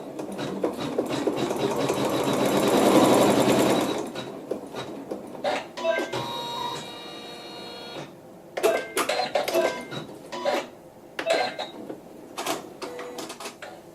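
A sewing machine stitches a seam, whirring steadily for a few seconds, then running in short intermittent bursts separated by brief quiet gaps.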